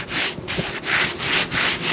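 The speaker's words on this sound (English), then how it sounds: "rub the shingle, granulars came off, no creasing, no lines or anything like that appeared" A hand rubs back and forth across a gritty asphalt roof shingle, making rhythmic rough scraping strokes, about five in a row, close and fairly loud, with no talking.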